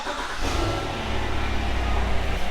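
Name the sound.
engine started and revved to cycle the oil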